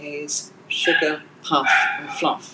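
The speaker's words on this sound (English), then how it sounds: "I'm sorry about my dog." A dog barks and yips in short bursts close by, mixed in with someone talking at home.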